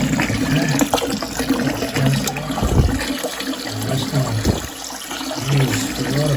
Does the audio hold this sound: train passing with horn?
no